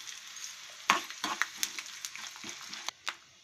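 Mustard seeds, lentils and dried red chillies for a tempering are frying in hot oil with peanuts, giving a steady close sizzle with sharp scattered pops and crackles.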